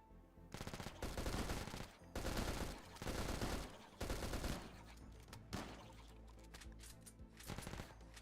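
Automatic gunfire in the colony-defense game RimWorld, with repeated loud bursts of rapid shots separated by brief gaps, then tapering to scattered quieter shots.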